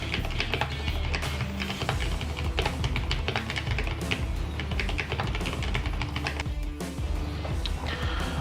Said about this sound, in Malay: ini adalah sedikit typing test.